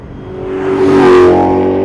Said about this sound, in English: Get hard on the brakes. It blips the throttle properly, downshifts.